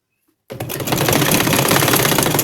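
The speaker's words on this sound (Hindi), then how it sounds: "डबल फोल्ड रखते हुए इसके ऊपर पूरी मैं गोलाई में इसके ऊपर सिलाई लगा दूंगी" After a brief silence, a sewing machine starts up and runs steadily at a fast, even rhythm. It is close and loud as it stitches a double-folded scallop hem around a kurti.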